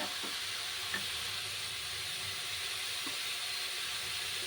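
Vegetable pieces frying in a pan, with cut tomatoes about to go in, giving a soft, constant sizzle and hiss at low level with a few faint clinks.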